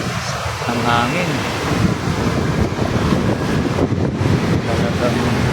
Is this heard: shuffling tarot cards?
no